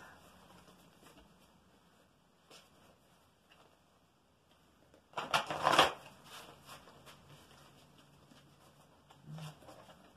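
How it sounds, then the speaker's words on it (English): Tarot cards riffled in a quick shuffle, a short burst of papery flutter around the middle of an otherwise quiet stretch with faint rustles and handling noises. "So let's do 3 shuffles, 3 cuts."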